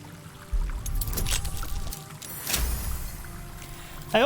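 Flowing water ambience from Baldur's Gate 3, a steady rushing wash with two louder surges of splashing flow and a faint melodic hum beneath.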